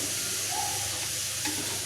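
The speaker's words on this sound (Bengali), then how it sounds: "মুচমুচে করে ভাজবো" Masoor lentil fritters frying in oil, a brief, steady close-up sizzle and bubbling with no talk.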